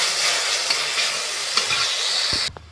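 Dried red chilies, panch phoron, bay leaves and a ginger-cumin paste sizzle loudly in hot oil for a dal with bitter gourd. A dense, steady crackle runs with stirring scrapes, then drops away abruptly near the end.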